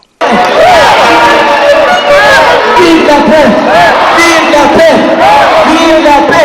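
A packed crowd in a large hall at the Palais du 15 Janvier in Chad chanting loudly in unison for peace, a dense, continuous roar of many voices that swells and rises in repeated cries from start to finish.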